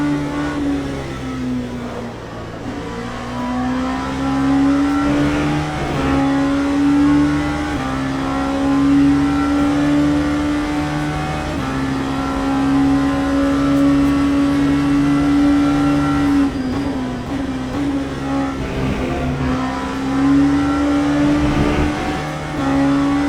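Race car engine howling during a multiclass race at Silverstone, loud and close, its pitch sweeping up and down repeatedly as it accelerates through gears and lifts for corners.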